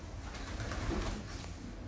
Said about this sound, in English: there's a pigeon